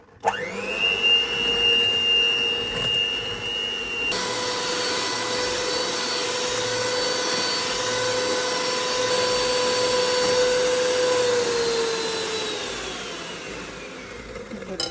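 Electric mixer beating eggs with sugar and vanilla sugar: a loud, steady motor whine that starts abruptly, holds a high sustained tone with a small shift after a few seconds, then slowly lowers in pitch and fades near the end.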